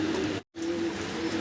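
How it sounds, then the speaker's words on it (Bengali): Large white and red wren pigeons in a cage give a sustained low cooing drone, broken by a brief silent cut, then resuming steadily, close and moderately loud. "বিশাল বিগ সাইজের আমরা দেখাইতেছি রেন কবুতর"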